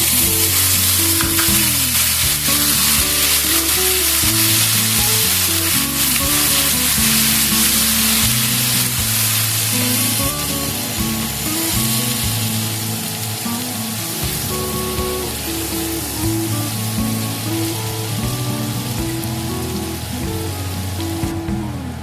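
Grated tomato drops into hot oil for Kashmiri dum aloo, producing a loud, dense, continuous sizzle that holds steady for over twenty seconds, close up, with background music playing underneath and no speech.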